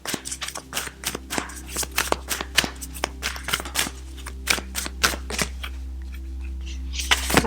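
Tarot cards are shuffled by hand close to the microphone, making rapid, uneven riffles and slaps that repeat throughout.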